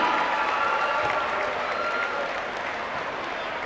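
Loud, sustained crowd applause fills a school winter sports night in a gym, steady and dense from start to finish as honorees are recognized.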